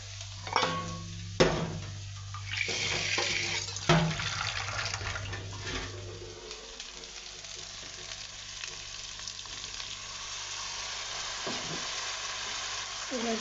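Water poured into spices frying with turmeric, chili, coriander and salt, setting off a loud hissing sizzle that gradually settles into a softer, steady bubbling fry, with a few clanks of the pot along the way.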